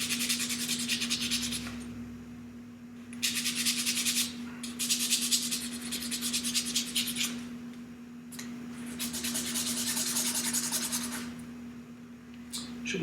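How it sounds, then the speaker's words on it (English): Steady rasping strokes sand the flashed edges of 3D-printed Mandalorian jetpack parts, close and continuous in repeated bursts over a constant low electrical hum. "We're just going to sand them down on the edge really nice and smooth."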